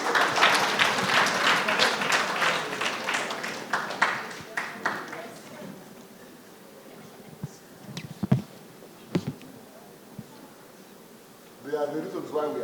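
A crowd at a celebration for Teach For Uganda fellows claps loudly and densely for about five seconds, then thins to a few scattered claps, with talking in between.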